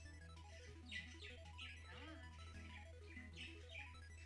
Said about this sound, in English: Do I hear birds? Yeah, my parents have birds.